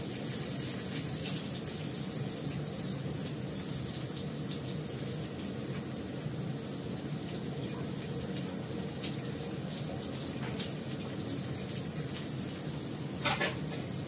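Raw fish belly pieces cooking in a pan for a yogurt fish curry, giving a steady, even hiss and sizzle throughout with a few faint clinks near the end.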